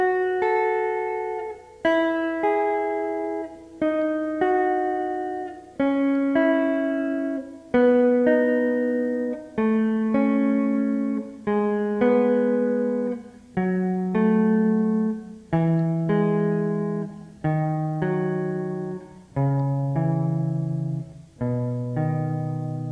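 R&B electric guitar playing slow, clean chord stabs and sustained notes, each ringing out and fading before the next, descending gradually in pitch, solo and close with no voice.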